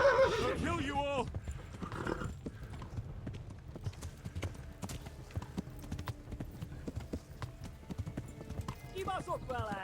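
Horse hooves clopping at a gallop in Kingdom Come: Deliverance with loud whinnies at the start and end, under scattered talk and game noise.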